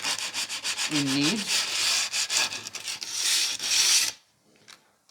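Sandpaper rubbing along the sharp glass edge of a planter pot, a loud rhythmic rasping in quick back-and-forth strokes, briefly interrupted by a voice, then stopping abruptly near the end.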